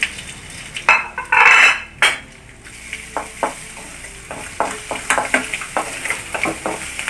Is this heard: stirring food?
yes